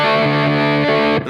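Lap steel guitar in open D tuning rings out a sustained chord on its bottom three strings, loud and close with a distorted, effects-laden tone that holds steadily before cutting off.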